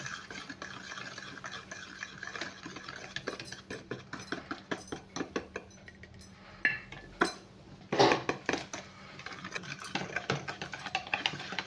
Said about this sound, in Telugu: కొంచెంగా వేసుకుంటూ అలా విస్క్ చేసుకుందాం